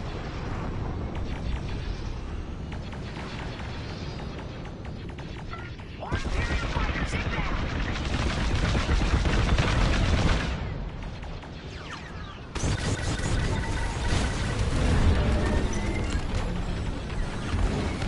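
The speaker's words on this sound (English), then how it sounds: "Our Corvette is taking heavy fire." Heavy blaster fire pounds a corvette in Star Wars: Squadrons, a continuous barrage of laser shots and explosions layered with engine roar and game voices.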